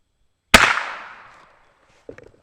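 A single sharp report from a Glenfield Model 10 single-shot rifle fired at a target outdoors, loud and close, with a ringing decay that trails off over about a second, followed by a faint short knock.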